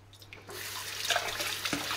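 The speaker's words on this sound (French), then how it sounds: "On va de nouveau juste rincer ma spatule." Tap water runs and splashes into a kitchen sink while a spatula used for meringue batter is rinsed, a steady close stream with a few brief clinks.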